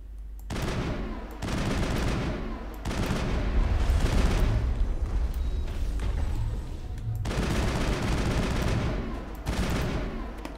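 Gunfire in the video game Mass Effect: dense, loud bursts of automatic fire and booming shots in sustained volleys with brief gaps between them.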